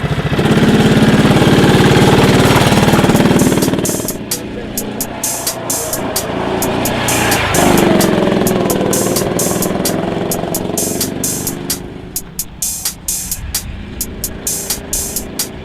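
A small go-kart engine at a leisure karting circuit runs loud and steady, then drops to an uneven idle and revs up again, with a voice talking over it.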